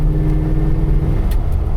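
A 1993 Ford Econoline van engine is given gas while driving, producing a loud, steady low rumble and drone heard from inside the vehicle, with no talking.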